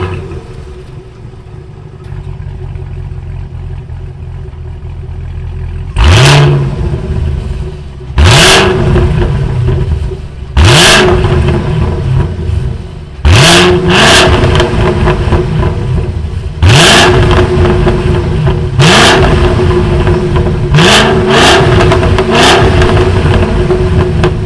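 The 6.2-liter supercharged V8 of a 2022 Cadillac CT5-V Blackwing fires up with a loud bark, settles into a rumbling idle, then is blipped through a series of sharp revs, each rising and falling in turn.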